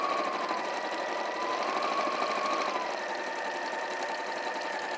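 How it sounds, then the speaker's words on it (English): A sewing machine runs continuously, stitching patchwork pieces along a quarter-inch foot guide, with a steady close mechanical whir and no pauses across the stretch. "So I'm sewing just to the left-hand side of these ones."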